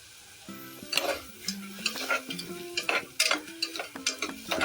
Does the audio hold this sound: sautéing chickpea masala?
yes